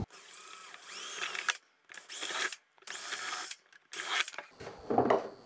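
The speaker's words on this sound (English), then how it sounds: "I can just drill those three holes in the right place" A power drill bores three holes during prototyping of a 737 part, in three whirring bursts separated by short pauses, close and fairly loud, with a final rough, grinding stretch at the end.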